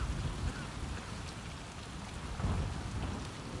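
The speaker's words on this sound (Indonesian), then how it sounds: "Badainya besar banget. Nah, ada petir pula di sini." Heavy rain pours steadily during a storm in the video game Uncharted 4, a dense wide hiss of wind and downpour with low rumbling thunder swelling twice, with no voices heard.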